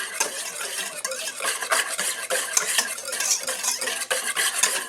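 Breadstick dough ingredients with oil and salt are stirred in a bowl, a steady busy scraping and clinking of utensil against the bowl with no pauses.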